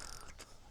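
Close, continuous ratcheting of a fishing reel's drag while a hooked rainbow trout runs, with one sharper burst partway through and no voices.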